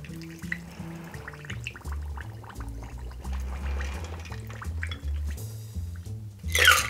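Liquid pours steadily into a Ramble cocktail glass for several seconds, with gentle trickling and dripping over soft background music, ending in a brief louder splash.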